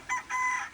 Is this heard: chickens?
yes